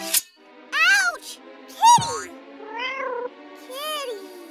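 A cat lets out several drawn-out meows in a row, close and fairly loud, each rising and falling in pitch, with short pauses between them.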